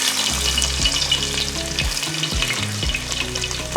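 Sliced garlic and fenugreek seeds sizzle steadily in hot coconut oil in a pan, a close, continuous crackle broken by a few stirring scrapes and clunks, with no one talking.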